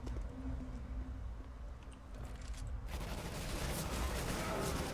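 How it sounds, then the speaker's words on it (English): Negev machine gun fire from CS:GO during a competitive match, a dense sustained burst of gunfire that swells louder in the second half over a steady game background. "You can't just kill someone with a Negev."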